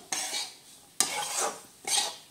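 Besan is roasted in a pan over a low flame and stirred constantly with a spoon for besan laddoos. Three distinct scraping strokes sound close and fairly quiet, with short pauses between them.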